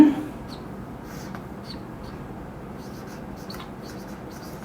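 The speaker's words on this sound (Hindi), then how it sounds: "अब हम इसकी डेफिनेशन लिखते हैं" Pen or marker strokes on a board or paper as a physics lecturer writes out a definition, giving faint, scattered scratches and taps over a quiet background room hum.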